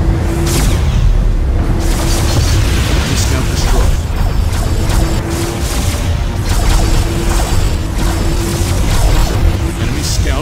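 Spaceship weapons and an explosion destroy an enemy scout in Star Trek Conquest, dense loud rumbling blasts and booms running throughout, with a steady tone beneath.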